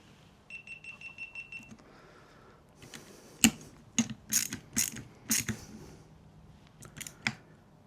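A ratchet clicks in sharp, close bursts while tightening steering rack bolts on a BMW 335i, with a few quick runs of ratcheting and louder metallic ticks spaced over several seconds.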